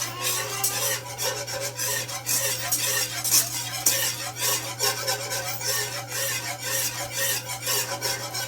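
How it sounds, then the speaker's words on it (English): A whisk scrapes steadily against a pan as butter is worked into a silky garlic lemon butter sauce for herb trout, a continuous close raspy stirring with fast, even strokes and no talking. "Just don't want to stop whisking at the moment."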